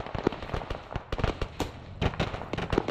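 Gunfire at a farm in the video game ARMA 3: rapid, irregular cracks and bangs, some close and sharp, others softer, in a dense, continuous volley.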